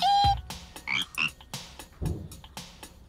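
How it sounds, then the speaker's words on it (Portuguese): Cartoon frog in a Portuguese-dubbed Chuggington children's episode, giving a few short, close croaks with brief pauses between them. "Achou o nosso sapo fujão."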